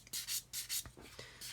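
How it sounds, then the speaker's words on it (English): A 600-grit sanding sponge rubs lightly over a plastic model kit part in a series of short, soft, rhythmic strokes, heard close up and quiet. "just basically lightly go over, no pressure, just lightly sanding over, just to sort of blend everything in"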